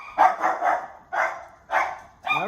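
A dog barks in four separate bursts, each a quick cluster of yapping barks with short pauses between, fairly close and loud with no talk over it, heard outdoors during a chicken-quarter cook on a Char-Griller Gravity Fed 980 smoker.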